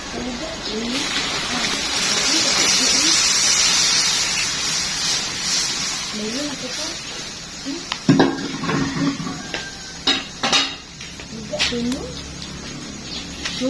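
Water bubbles and hisses steadily at a boil in a cooking pot for pancit with sardines while a person talks over it, followed by a few clattering knocks of utensils.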